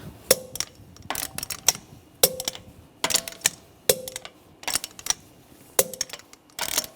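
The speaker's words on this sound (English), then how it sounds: "Now I'm going to torque the lug bolts to 90 foot-pounds in a cross pattern to tighten the wheel down evenly." Clicks from a torque wrench tightening lug bolts on a 2009-2013 BMW 328i xDrive front wheel, worked in a cross pattern to 90 foot-pounds: a steady series of sharp, close metallic clicks in small bursts, with no talking.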